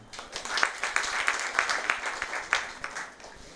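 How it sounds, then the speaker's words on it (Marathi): An audience at a Marathi awards ceremony bursts into applause, a lively patter of many hands clapping that swells and continues unevenly throughout. "त्याच्यासाठी जोरदार टाळ्या"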